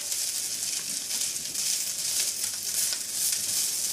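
Fried rice sizzles steadily in hot oil in a pan, a continuous bright crackle with no pause and no voices.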